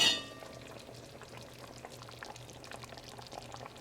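Beef stew with mushrooms and chicken broth simmering in a covered pot on a gas stove, a quiet steady bubbling with soft irregular pops, faint and close, no voices.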